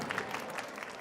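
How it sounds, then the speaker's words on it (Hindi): A crowd claps for a child at a school annual prize distribution ceremony, steady applause throughout, fairly close and moderately loud. "इस बच्चे के लिए एक बार तालियां"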